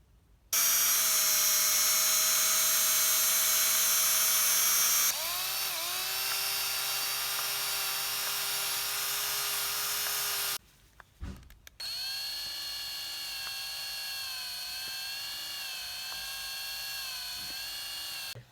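Power drill spinning shock shafts and hinge pins for polishing on a Rovan Baja 5B RC car, a loud steady high-pitched whine in long runs with a brief pause and speed changes between them.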